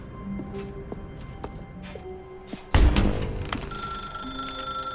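A telephone rings in The Stanley Parable video game, the bright bell tones starting abruptly after quiet sparse sounds and continuing steadily at close range over a dense background, with no talk.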